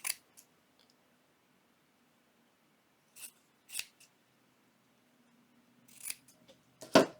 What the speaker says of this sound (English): I just cut it the size that I wanted.